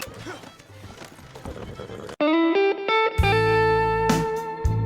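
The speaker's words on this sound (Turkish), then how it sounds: "bu kimin atı?" A horse in the Red Dead Online game lets out a loud, close neigh with a rising and falling whinny after a muffled stretch of game noise and hoof sounds.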